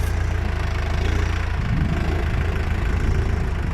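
Kubota M98 tractor engine running nearby, a loud steady low diesel rumble with an even throbbing pulse throughout.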